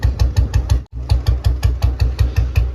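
A restored 1998 Royal Enfield Bullet 350 single-cylinder engine idles low and slow, each thumping beat distinct and evenly spaced, close and steady with no talking.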